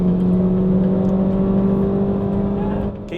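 A race car engine drones steadily at high revs while driven flat out in third gear, loud and close, with a strong sustained tone that eases slightly near the end.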